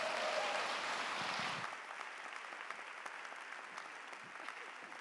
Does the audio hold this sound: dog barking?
no